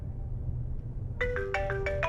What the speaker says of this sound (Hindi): ये तुम्हारे घर से फोन आ रहा है